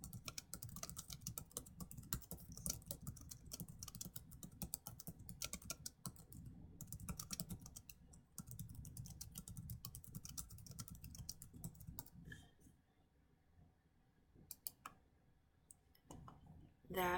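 A comment typed on a computer keyboard, heard as rapid, dense key clicking that runs nearly continuously, then thins to a few sparse taps and a final louder click, close to the mic with no voice.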